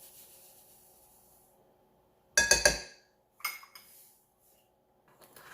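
A whisk or spoon strikes a bowl while salt is beaten into a whole egg, giving two short bursts of bright clinking and scraping separated by quiet pauses, close and crisp.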